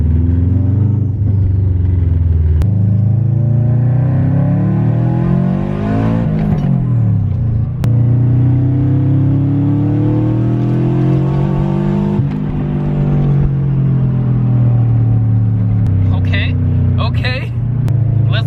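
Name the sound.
Subaru WRX driving, engine revving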